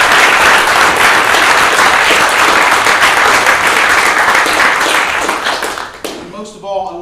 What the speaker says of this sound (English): let's give them a round of applause as thank you